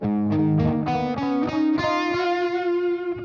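Electric guitar through a 2290 P Dynamic Delay pedal set loud, a run of picked notes rising and smearing into sustained, overlapping repeats that linger and blur together, played alone.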